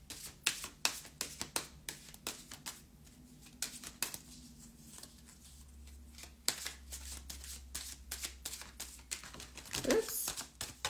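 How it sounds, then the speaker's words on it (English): Tarot cards being shuffled in quick, dense bursts of riffling and flicking, close and clear, with a brief clatter near the end. "I'm going to just shuffle my cards"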